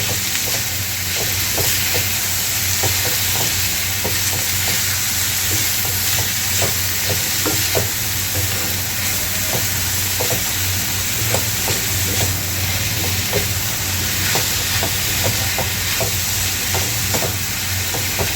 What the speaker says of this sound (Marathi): आता ही भाजी आपल्याला कमी होतपर्यंत परतून घ्यायची